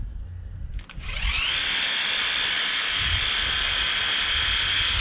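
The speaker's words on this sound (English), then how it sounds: "This is the Worx Hydroshot." A Worx Hydroshot cordless pressure washer fitted with the full-length pole spins up after a brief pause and then runs with a steady, high-pitched whine, close and loud, with no talking.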